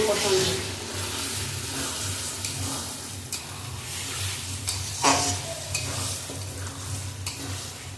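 Pork being sautéed with spices in a pan for a Bengali pork curry, a steady close sizzle and frying hiss with occasional stirring scrapes, and some faint background voice or noise mixed in.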